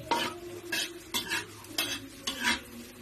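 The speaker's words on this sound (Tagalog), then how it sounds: "Sa haluin natin. Hintayin lang natin maluto ang bawang." Garlic frying in a pan for sinangag fried rice while being stirred: a steady sizzle under repeated scraping stirs of a utensil against the pan, about five strokes, close, with no talking.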